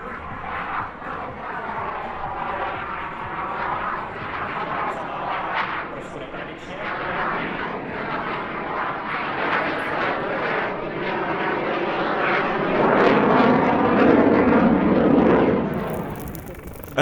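An Aero L-159 Alca military jet displays at an airshow, making a loud, shifting engine roar with swooping tonal sweeps that swells toward the end as the jet passes near.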